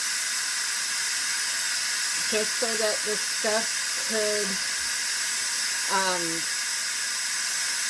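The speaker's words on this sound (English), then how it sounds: "You can see it let off that initial burst of steam" A steady broad hiss of steam bursts from an Instant Pot as its pressure releases, continuing loud and unbroken while a person talks briefly over it.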